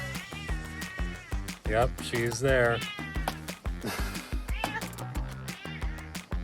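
Rescue cat Claire meowing repeatedly to be let inside on a hot day, close and fairly loud, with someone talking over the cries.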